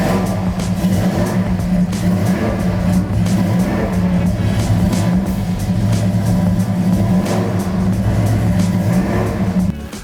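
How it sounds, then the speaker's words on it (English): A 1969 Dodge Super Bee with a 440 engine runs loud and close, its deep steady rumble swelling and easing through revs for about ten seconds, with no voices. "we about to start up this 1969 Dodge Super Bee 440"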